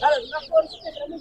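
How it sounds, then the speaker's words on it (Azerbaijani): Roosters, including Brahma birds, give short close clucks in quick bursts at the Sabunçu poultry market, with voices mixed in. "Onlar xoruzdur da."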